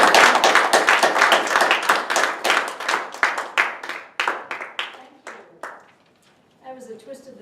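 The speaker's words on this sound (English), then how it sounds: "Please give a very warm round of applause to our Toastmaster this evening" A burst of applause from a Toastmasters meeting audience, loud at first and then thinning into scattered claps that fade out, with a faint voice at the end.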